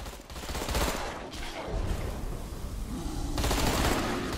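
Gunfire in the video game Deadfall Adventures, dense bursts of rapid shots and fusillade blending into a continuous roar, loud and close, with a brief lull midway before the shooting swells again.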